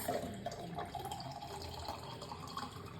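Tap water runs and splashes as it is poured into a percolator for boiling, heard as a quiet, steady trickle with small drips throughout.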